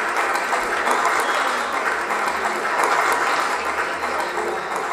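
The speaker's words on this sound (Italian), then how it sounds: "Facciamo un grande applauso." An audience claps at a Miss Butterfly 2022 beauty pageant evening in a club, a steady, moderate wash of many hands lasting the full five seconds.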